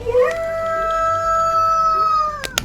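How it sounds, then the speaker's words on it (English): A single loud, sustained howl that holds a steady pitch for a couple of seconds, ending with a sharp clatter. "it let out a frustrating howl which sounds louder than the previous ones."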